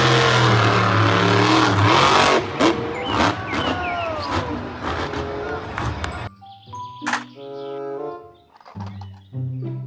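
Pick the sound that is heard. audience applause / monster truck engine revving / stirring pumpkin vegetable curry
monster truck engine revving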